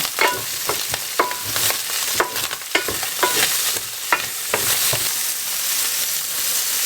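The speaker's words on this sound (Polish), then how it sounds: "I teraz wrzucam już te warzywa, żeby to było smaczniejsze. Mieszam." Vegetables tossed into a hot frying pan and stirred while preparing fried fish in cream sauce with shrimp, giving repeated close scraping clacks of the spoon over a steady sizzle with no talking.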